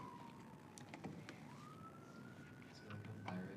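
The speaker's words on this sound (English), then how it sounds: "Yeah, a lot of sirens today" A distant siren, likely a fire engine, wails in a slow rising and falling tone, faint beneath low background noise and scattered clicks.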